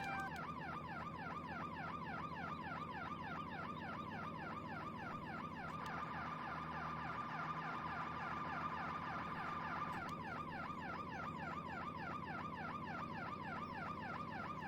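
Fire truck sirens with a compact Chevy engine, responding to a fire in the farming game Farming Simulator 17: a fast, steady wailing cycle that keeps going without a break, fairly quiet, with faint engine noise underneath.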